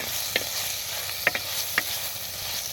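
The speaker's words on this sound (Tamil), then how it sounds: "போட்டு நல்லா பொன்னிறம் ஆகும் வரைக்கும் வறுத்து விடுறோம்." Soft, steady sizzle of spices frying in a pan until golden for hill crab soup, with a few light clinks and scrapes of stirring scattered through.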